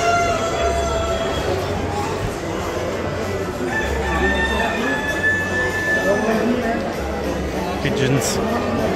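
Roosters crow at a French agricultural livestock fair, a long drawn-out crow rising from a noisy hall full of crowd chatter and other poultry, fairly close but partly buried in the background din.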